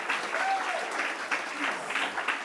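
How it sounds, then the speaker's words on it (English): A Hay Festival poetry reading audience breaks into dense, continuous applause, a full wash of clapping filling the room for a couple of seconds without a break. "Give yourselves a round of applause."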